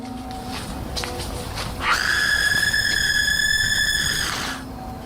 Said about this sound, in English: Some people claim that the scream is fake and edited in.